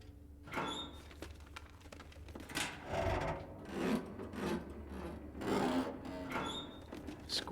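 A blade is sharpened on a whetstone in the survival video game The Long Dark, giving repeated rasping strokes, about seven rhythmic scrapes, close and fairly quiet, with no talk.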